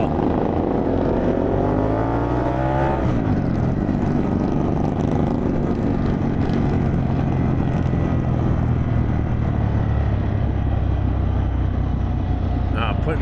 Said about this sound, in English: Putting this Vance and Hines on here, man, what a great muffler